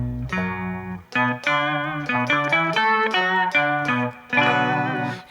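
Distorted electric guitar played through an amp simulator in Ableton Live plays a short melodic phrase with sustained, buzzy notes and a few chords, close and loud with no voices.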